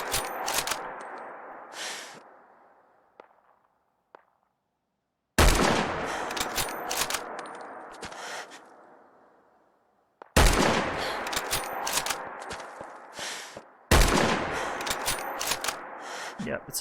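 Rifle shots in Fallout 4 boom loud and close, four separate blasts several seconds apart, each trailing off into a long echoing decay, with brief quiet gaps between them.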